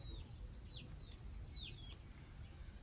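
Bushlark chicks give thin, high chirps and short downslurred whistles, several in a loose series over a steady low outdoor hum, faint and fairly distant.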